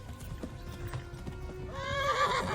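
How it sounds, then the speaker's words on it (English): Horse in the Kingdom Come Deliverance video game: rapid clip-clop hoofbeats of a gallop, then a loud, high neigh rising over the steps near the end, with no talk. "Oh, the horse is starting to get tired."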